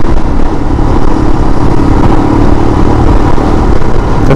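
Royal Enfield Himalayan motorcycle engine (2022) running steadily in third gear at 4,500 RPM at about 60 km/h, a loud, even drone with wind noise and no change in pitch.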